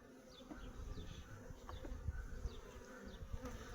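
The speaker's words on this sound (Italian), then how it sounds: "Senti l'ape?" Honeybees buzzing around an open beehive during hive inspection, a faint, continuous drone with individual bees whizzing close past now and then, no talking.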